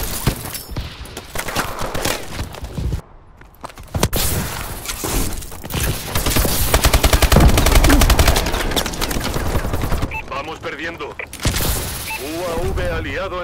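Gunfire in the video game Call of Duty: Advanced Warfare, loud sustained automatic bursts with booms and impacts, mixed under game radio voices and dense battle noise.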